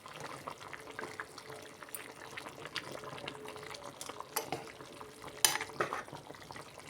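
Goat head curry being stirred in a pot, a soft continuous wet bubbling and scraping with a few louder clinks of a utensil against the pot near the end, with no talking.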